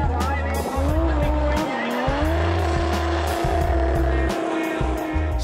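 Drift cars in a South African drifting competition, tires squealing in long sustained screeches over loud continuous engine roar, with pitch sliding upward as the cars slide through the corners.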